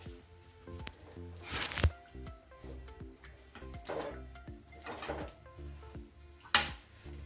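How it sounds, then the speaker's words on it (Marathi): Fish curry masala is stirred and sautéed in a pan, with scattered scraping and clinking of a utensil against the pan and soft wet squishing, fairly quiet and irregular. "तरी हे परतून घ्यायचंय एकजीव करून।"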